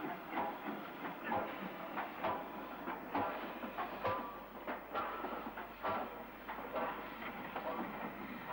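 The A4 steam locomotive Kingfisher works on a Southern main line, a rhythmic chuffing exhaust with rail clatter and steady hiss, moderately close and continuous throughout.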